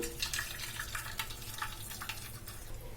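Warm melted jaggery syrup is poured through a strainer in a home kitchen, giving a steady close trickle and splash of liquid that runs throughout without pause.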